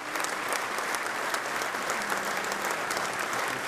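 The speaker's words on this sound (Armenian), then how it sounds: "Այս ծափահարությունները հայ-ադրբեջանական սահմանին զոհված զինվորներինն են" A crowd at a reception in a sports and concert complex gives dense, steady applause for soldiers killed on the Armenia–Azerbaijan border, the clapping even and sustained from start to finish with no talk.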